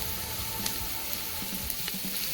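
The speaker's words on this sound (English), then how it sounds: "I got my onions already diced and sauteing in the pot for us" Diced onions sauté in an Instant Pot, giving a soft, steady sizzle and crackle that runs the whole time at low volume, with no talking.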